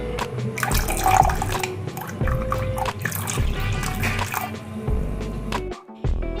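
Lukewarm water is poured and stirred into a rice flour batter for chitoi pitha, giving close wet splashing and trickling sounds in uneven bursts, with a brief pause near the end.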